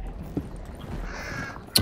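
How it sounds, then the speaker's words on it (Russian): Crows cawing in the Hunt: Showdown video game, with a faint caw early on and a sharper, louder call near the end over a quiet outdoor ambience. "Вороны."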